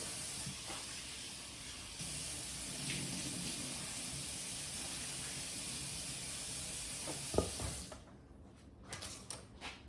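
Tap water runs in a steady close hiss as lobster and king crab legs are rinsed, then stops near the end, leaving a few faint clatters.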